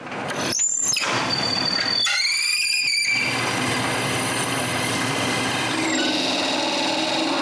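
A power drill fitted with a longer bit bores deeper into wood for a shutter-lock bolt, giving a loud continuous whine with squealing bursts as the bit bites, steady for several seconds, with no talk.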